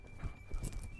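Horses clop along on their hooves, a few dull thudding steps close by, with a faint whinny mixed in.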